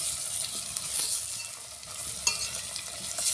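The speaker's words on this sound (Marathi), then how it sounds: "आता त्यामध्ये आपण टमाटर टाकून देऊया" Tomatoes sizzle in hot spiced masala oil on a wood-fired stove for a mixed-vegetable dal, a steady close frying hiss with occasional soft stirring scrapes and no voices.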